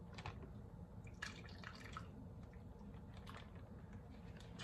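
Chicken drumstick marinade is poured into a bag, heard as quiet, close, irregular wet drips and glugs and soft squelches, with a faint bump at the end.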